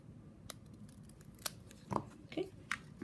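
Scissors snip through a brown paper piece trimmed off a holiday gift card holder, a few sharp separate cuts close by over a quiet background.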